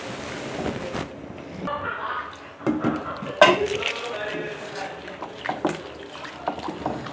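A spoon stirs chili sauce and vinegar together in a cooking pan, giving scattered metallic clinks and scrapes against the pan over a low background hiss, with one sharper knock midway.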